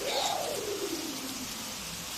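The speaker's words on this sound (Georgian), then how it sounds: "გარეთ წვიმს." Steady rain falls outside, a soft, even hiss throughout, with a brief bird-like cooing call near the start.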